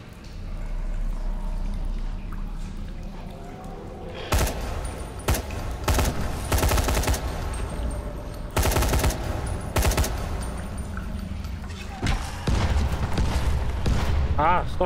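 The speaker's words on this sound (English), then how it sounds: "Ah, stop shooting me, man." Bursts of automatic gunfire in the zombie video game Dying Light The Following, several loud clusters of rapid shots with a player's voice talking over the game sounds.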